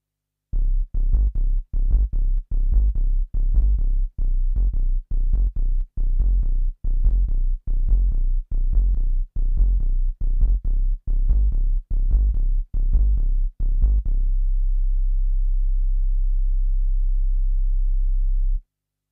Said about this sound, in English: this algorithm 32 DX7 bass, it's a pure additive